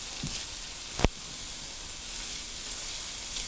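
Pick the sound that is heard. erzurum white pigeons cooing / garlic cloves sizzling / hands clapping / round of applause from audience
garlic cloves sizzling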